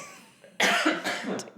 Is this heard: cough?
yes